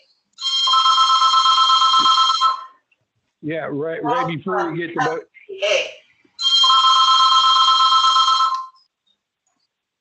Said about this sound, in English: I was waiting for the phone to stop ringing wherever that's occurring.